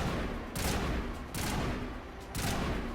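Gunfire in Mass Effect comes in repeated sustained bursts of rapid shots, three or four volleys over a low rumbling backdrop, fairly loud and close.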